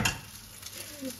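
Nasi goreng fries in a pan with a steady, close sizzle and the scrape of stirring, brief and fairly loud.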